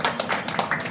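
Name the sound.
clapping at a shop grand opening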